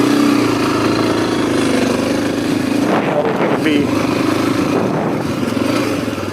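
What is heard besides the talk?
Suzuki DRZ250 motorcycle engine running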